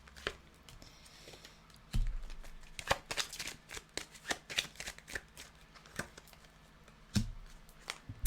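Oracle cards shuffled and laid out on a surface, with brisk, close, crisp riffling and sharp flicks and taps as cards are placed, fairly quiet overall.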